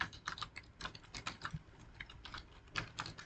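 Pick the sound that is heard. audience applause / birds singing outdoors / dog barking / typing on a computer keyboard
typing on a computer keyboard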